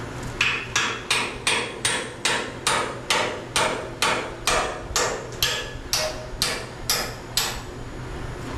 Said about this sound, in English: we'll hammer the hell out of it.